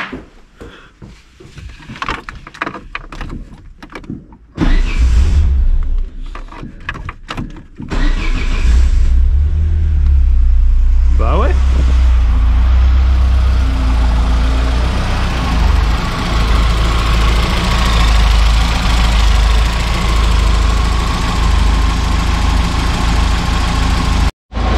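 A Peugeot 205 GTI engine cranks and catches after a few clicks and rustles, then settles into a loud, steady, close idle that runs on for most of the clip.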